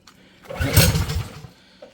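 A small engine with the choke on sputters briefly to life and dies away within about a second, a single loud, close burst of firing.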